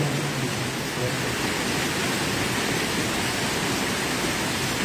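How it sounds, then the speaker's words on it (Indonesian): Steady rain falls in a dense, even hiss with no breaks, loud and close, with no talk over it. "Alhamdulillah hujan."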